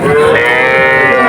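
Cattle at a calf market lowing in one long, loud, close moo that fills the moment without any talk.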